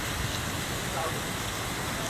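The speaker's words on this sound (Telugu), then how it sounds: "దుబాయ్లో బేభత్సమైన వర్షం కురుస్తుంది" Heavy rain pours down in Dubai as a dense, unbroken wash of noise that stays loud and even throughout.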